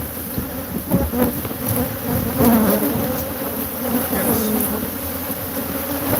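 Killer bees swarm in a dense, continuous buzz, with many insects droning and whining close by at steady loudness; faint voices occasionally come through beneath the hum.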